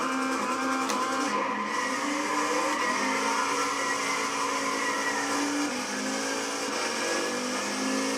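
Pontiac GTO 5.7 Coupe drag-race engine in Gran Turismo 6, a loud sustained mid-pitched roar with rising rev harmonics, steady and close throughout with no pauses.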